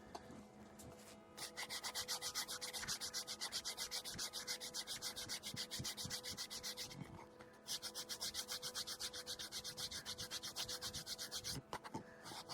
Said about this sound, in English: so we might have to do some more sanding.